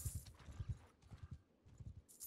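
Horse hooves clip-clop in the Bannerlord video game, a quick irregular run of soft thuds close by, pausing briefly and then resuming, with no talking.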